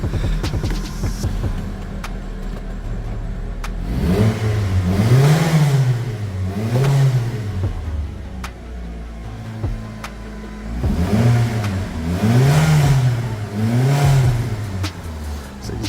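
A Mitsubishi Outlander 2.4-litre petrol engine with an intermittent non-start fault runs rough and spluttery with a buzzing exhaust, rising and falling in two cycles of revving over a steady close idle.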